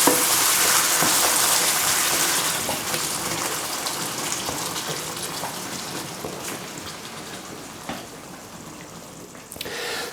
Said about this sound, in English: So now I've got the tomato sauce and the mince mixed together. We just want to gently let those bubble away really